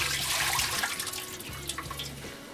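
Water from cooked prawns being poured away into a sink, a continuous splashing, gurgling stream with small drips, fairly close and steady, with no voices.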